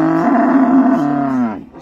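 One cow at a busy livestock market lets out a loud, drawn-out moo that rises and wavers before trailing off, close and clear with no talking over it.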